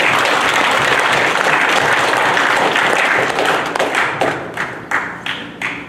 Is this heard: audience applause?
yes